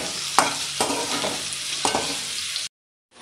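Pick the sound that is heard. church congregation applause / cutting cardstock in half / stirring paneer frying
stirring paneer frying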